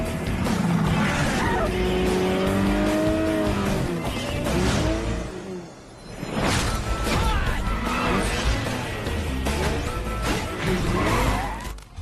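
Racing cars in the Sonic and Sega All-Stars Racing video game, with loud continuous engine roars, whooshing passes and impact crashes in a busy game soundtrack.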